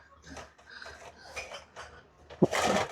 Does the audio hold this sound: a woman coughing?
no